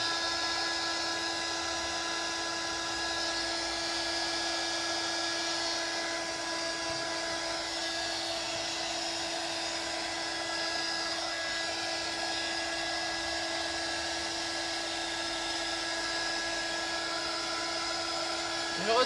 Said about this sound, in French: j'ai mon pistolet que je me sers habituellement pour faire les embossages ou choses comme ça